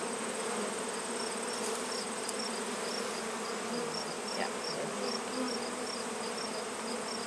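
Honey bees buzz steadily around a late-summer backyard hive in Swanzey, New Hampshire, a continuous droning hum with faint insect whines over quiet outdoor ambience.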